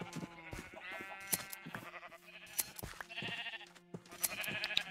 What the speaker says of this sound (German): Wir haben richtig viele Schafe.